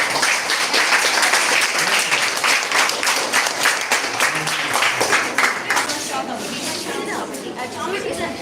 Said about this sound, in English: Super. All clap.